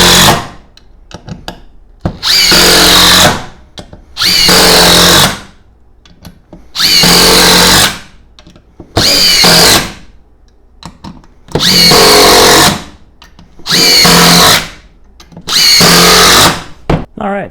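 A Makita XGT GDT-02 cordless impact driver, set to speed 4 on a 2.5 Ah battery, fires in about eight loud, rattling bursts of a few seconds each, separated by short pauses, with no talking.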